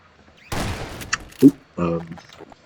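Bursts of turret gunfire in Half-Life 2 at a rebel base taken over by enemies, a few short separated shots and rattles, fairly close, with no speech over them.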